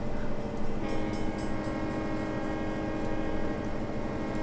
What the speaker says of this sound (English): This is a good old American train here, though.